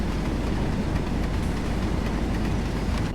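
Class 20 'Chopper' diesel locomotive in a train video game working at full power, a loud, steady low engine rumble and drone running unbroken and close throughout.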